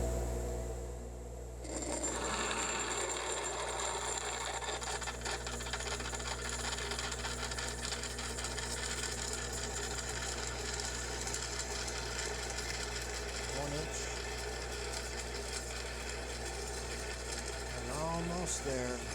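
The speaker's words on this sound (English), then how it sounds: "probably sharp enough to just ream this out at 32nd" Hardinge HLV-BK lathe running steadily while a reamer works a hole in a precision spindle, a continuous machine hum with faint cutting scrape and light clicks near the end.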